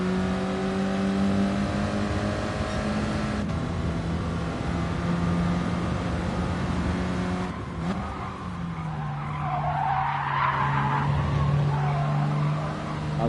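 Renault Clio Cup race car engine held in fourth gear, a loud close in-car drone that builds slowly and steadily, dips briefly, then rises again with rougher strain; no talking.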